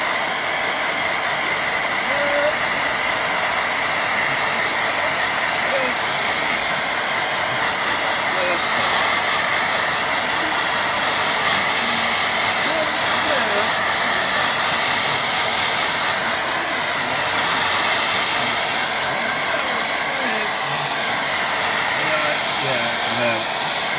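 A hair dryer blasting steadily over a watercolour painting, a loud unbroken whirring hiss that holds for the whole stretch with no pauses.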